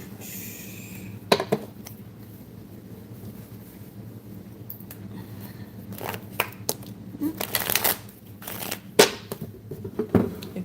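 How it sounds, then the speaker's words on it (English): A deck of tarot-style cards gets shuffled in several quick riffling bursts, soft, close crackles and flutters separated by quieter pauses with low background hum. "Let's go ahead and shuffle these cards."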